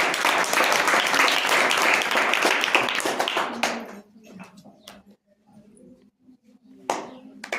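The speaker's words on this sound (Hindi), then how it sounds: "जोरदार ताली इसके लिए" A crowd at a sewing centre's rakhi competition prize announcement claps loudly and steadily for a few seconds, then the applause breaks off into scattered claps and quiet murmuring.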